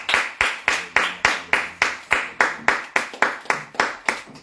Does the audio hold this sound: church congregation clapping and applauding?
yes